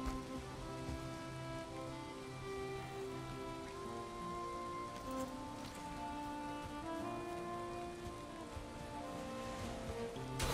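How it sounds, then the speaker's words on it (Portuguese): Steady rain patters on surfaces in the video game Valheim, a soft continuous hiss of drops with faint tonal game music underneath, no voices. "Deixa eu ficar aqui fora da chuva."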